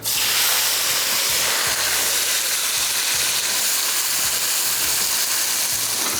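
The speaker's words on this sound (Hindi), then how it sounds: "यह आ गया ऑयल गरम, इसमें शामिल कर देते हैं हम टमाटर" Tomatoes hit hot oil in a karahi, setting off a loud, steady, dense sizzle that carries on unbroken throughout, with a low rumbling underneath.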